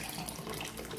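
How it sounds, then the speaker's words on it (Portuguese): One litre of room-temperature water pours in a steady, faint, continuous splash while a homemade box-cleaning detergent is being mixed. "Aqui agora vai 1 litro de água em temperatura ambiente."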